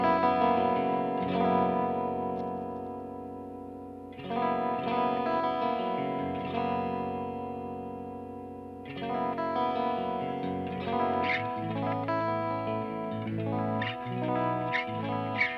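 Electric guitar played through the clean channel of a Peavey 5150 amplifier, rich sustained chords and arpeggiated notes with chorus and echo effects, ringing out loud and alone in phrases separated by brief pauses.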